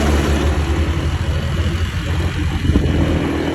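A Kubota 4x4 ride-on lawn mower drives along at about 20 km/h while a motorcycle follows close behind, giving a steady, loud engine drone with slight rises and dips in revs and no talking.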